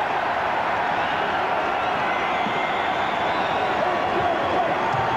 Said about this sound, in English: and the crowd is alive